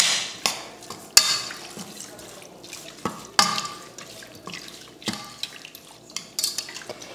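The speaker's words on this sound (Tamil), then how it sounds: "இப்போ தண்ணி ஊற்றி இதை கலந்துடலாம்" Water is poured into a pot of goat intestines being prepared for gravy, splashing and trickling in irregular bursts with the clinks of a metal vessel, close and fairly quiet.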